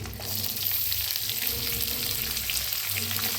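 Curry leaves, chopped onion and green chillies frying in hot oil make a continuous close sizzle with crackling spits, a low steady hum beneath and no talking.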